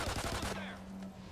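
Rapid bursts of gunfire from the video game Call of Duty Ghosts, Extinction Nightfall mode, a short loud rattle that fades quickly.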